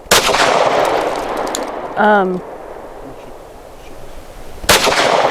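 Two loud, sharp pistol shots from a Canik METE SFX at an outdoor range, one at the start and one near the end, with a brief tonal electronic beep between them.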